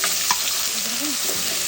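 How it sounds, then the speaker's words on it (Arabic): Onions frying in a pan as the base of a tomato sauce give a steady close sizzle, with a light scrape of stirring, over a short stretch with no speech. "نحط نطرة ملح ابيض تدبل البصل."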